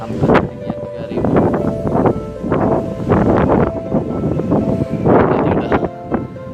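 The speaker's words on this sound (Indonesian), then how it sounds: "anginnya kencang sekali ini" Strong, storm-driven wind sweeps a steep slope near 3000 metres on Mount Agung in Bali, roaring in loud, uneven gusts that buffet the microphone, with voice-like sounds mixed in.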